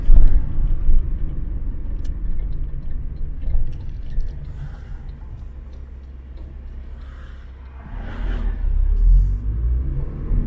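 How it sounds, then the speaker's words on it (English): Low diesel engine rumble from inside a moving Peugeot 106, steady and moderately loud, with a brief surge of road or engine noise near the end. "Admittedly, being a diesel, it's quite rattly at idle."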